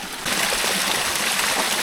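Cold mountain stream on Germany's highest peak in winter, water flowing and trickling steadily up close, broadband rushing that starts abruptly and holds even for under two seconds, no voices.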